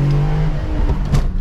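A BMW M3 engine revs close up during a double-clutch shift, a brief loud rising and falling growl lasting just over a second.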